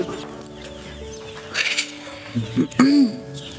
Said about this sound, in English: This is how 10 days old chicks look like.